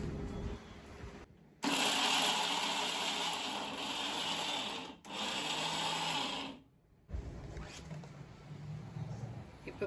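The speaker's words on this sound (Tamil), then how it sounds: "இதை எடுத்து மிக்சியில 2 சுத்தி போட போறேன்" A kitchen mixer grinder whirring through two short pulses on rice-roti ingredients, heard as loud, close, steady motor buzzes separated by brief silences.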